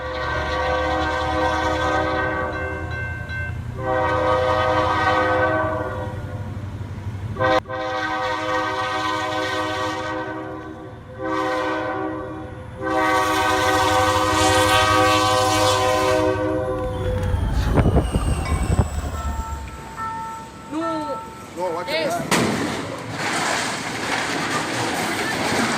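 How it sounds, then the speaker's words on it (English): A Reading and Northern Railroad train rolls through snowy country, its horn sounding in long, loud harmonic blasts repeated several times over the steady rumble and clatter of the passing cars. "Watch a majestic Reading and Northern Railroad train carve its way through a breathtaking winter"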